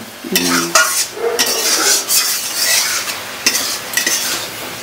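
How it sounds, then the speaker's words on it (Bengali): Eggplant, carrot and onion sautéing with spices in a pan, loud continuous sizzling broken by repeated quick scraping stirs of a utensil against the pan. "কাঁচা তরকারিটা বেশ ভালোই কষানো হয়ে গেল মশলার সাথে"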